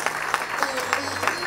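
Applause from an audience at a Bhaktamar Healing gathering in Dubai, a steady wash of many hands clapping briefly, moderately loud with a faint hum underneath.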